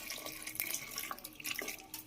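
Water trickles and splashes faintly into a pressure cooker full of potatoes, a soft, close, uneven pouring with small drips and no voices.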